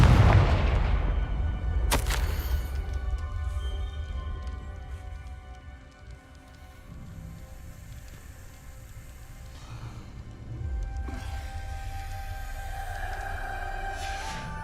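Confringo fire spell in the video game Hogwarts Legacy, a loud booming blast at the start followed by a sharp crack, then rumbling game ambience and further impacts trailing off.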